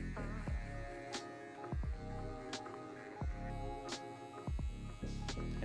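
An electric hair trimmer buzzes with a steady mains-type hum while shaving the sideburn area and neckline during a mid fade haircut, with short clicks and bumps as the blade moves, close and unaccompanied by talk.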